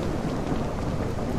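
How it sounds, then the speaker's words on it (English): Steady rain pours in the survival game No One Survived, a dense even hiss of drops with low rumbling underneath, continuous and fairly loud with no voices. "I need that rain to stop so I can turn my flashlight on and see"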